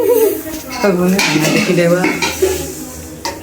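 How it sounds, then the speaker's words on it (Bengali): Cooking ghugni in a pot, with metal utensils clanking and scraping against the vessel over a steady sizzle, close and busy, no voices heard. "আমি এখন ঘুগনি রান্না করছি"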